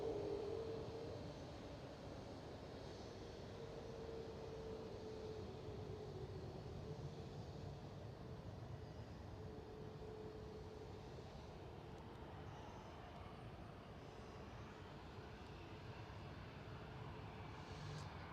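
Quiet airliner engines at Schiphol Amsterdam airport, a steady distant hum and rumble with a faint whine, fairly low in level and sustained throughout, with no talking.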